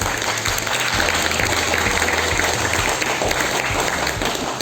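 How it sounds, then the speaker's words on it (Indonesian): Classroom applause at a school event, dense clapping from a group of students heard close and loud, steady throughout. "beri tepuk tangan untuk Hamzah"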